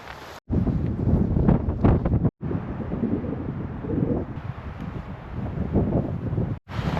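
Strong wind buffets the microphone outdoors at a camp during a freezing wind storm, a loud continuous roaring rush with a few brief drops to near silence.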